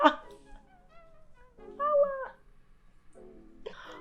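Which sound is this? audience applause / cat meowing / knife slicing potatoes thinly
cat meowing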